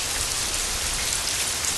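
Heavy rain pours down steadily outdoors, a dense, loud, unbroken hiss of drops striking surfaces with no pauses or other sounds.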